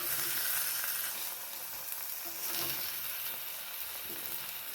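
An omelette fries in a little oil over a low gas flame, giving a steady, soft sizzle that crackles faintly and evenly throughout, close up and with no voices.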